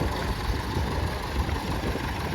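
A small horticultural tractor engine idles at a steam fair, close and steady with a continuous low rumbling drone and broadband outdoor noise.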